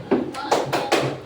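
A classroom claps a short 'tepuk fokus' rhythm, three quick sharp claps in a row, close and clear.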